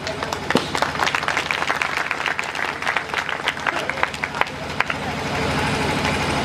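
Audience applause for a comic poet at a Hindi poetry recital, dense sustained clapping from a sizeable crowd, loud and fairly close, with murmuring voices beneath.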